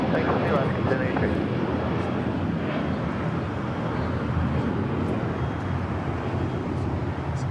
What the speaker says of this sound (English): That Alaska flight heading to Seattle, flight 1083, a 737-800